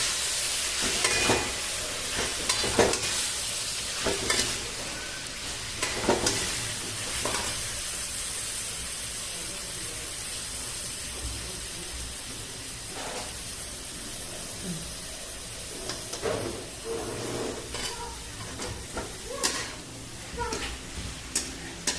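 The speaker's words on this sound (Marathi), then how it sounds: "आपण हे मिक्स छान मिक्स करून घेऊयात" Hadga flower vegetable fries in a pan with continuous sizzling and hissing, broken by repeated spatula scrapes and stirring knocks, close and moderately loud.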